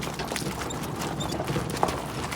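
Draft horse hooves clip-clopping at a steady walking pace, moderately near, against a noisy outdoor background.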